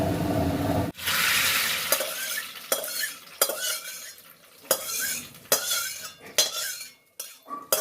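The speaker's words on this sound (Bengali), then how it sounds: "এই যে ডাল সেদ্ধ হয়ে গেছে, সম্বরাটা এরপর এর মধ্যে ঢেলে দেবো।" Hot tempering is poured into boiled dal, setting off a sharp burst of sizzling, followed by repeated clanks of a spoon or ladle stirring against the pot. No one speaks.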